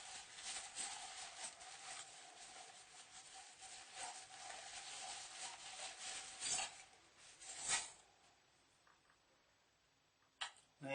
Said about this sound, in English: And give them a wipe.